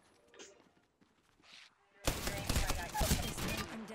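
Gunfire in a first-person shooter game erupts suddenly halfway through, a loud sustained burst of rapid shots that follows a quieter stretch with faint sounds.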